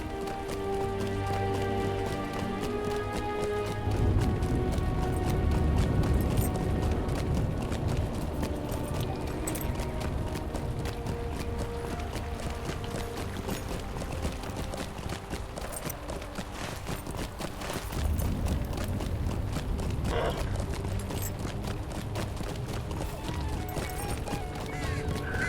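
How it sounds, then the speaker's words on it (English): A horse in Lord of the Rings Online gallops along a city route, its hooves clip-clopping in a fast, steady rhythm over ambient game sound for most of the stretch, with no talk. "I will go ahead and hop up on my horse. And we'll go ahead and ride under the craftsman's knee"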